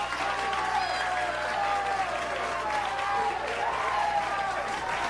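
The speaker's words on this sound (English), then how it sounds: "The crowd is rhythmically clapping for her." A wrestling crowd fills the arena with a dense, continuous wash of clapping and crowd noise that holds at an even level throughout.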